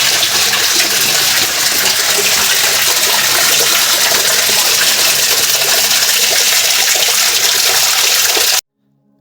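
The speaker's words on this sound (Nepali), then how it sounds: "यहाँदेखि भित्रदेखि पानी आइरहेछ।" Water gushing steadily out from inside Deuli cave, a loud continuous broadband rush with no voices, cutting off abruptly near the end.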